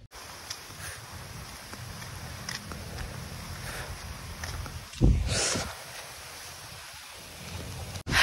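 Continuous rain hiss with gusty storm noise, a louder surge of wind and water midway, then a strong burst at the very end.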